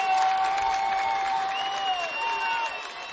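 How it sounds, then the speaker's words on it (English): A homecoming crowd at a high school football game between Leo and Bellmont roars in a steady, loud wash of cheering and applause, with sustained whistles or horn-like tones running through the noise. "A lot of noise by the homecoming crowd here at Leo."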